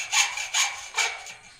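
A hand saw cuts through wood in three rasping strokes, evenly paced, close and fairly loud, with no voices.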